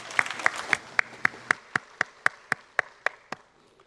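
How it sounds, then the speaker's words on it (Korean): About a dozen slow, evenly spaced claps ring out one after another in a reverberant church during a Sunday service, each sharp and distinct. "우리 주님께 영광의 박수입니다"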